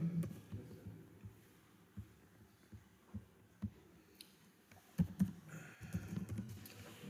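Someone types code on a computer keyboard, producing irregular soft clicks and taps in uneven bursts over a low hum, close by with no voices.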